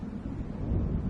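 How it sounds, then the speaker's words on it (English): Thunder from an approaching storm in Alan Wake Remastered rolls as a continuous low, rumbling roar with wind-like noise, steady and fairly loud, with no voices. "It seems there's a storm coming."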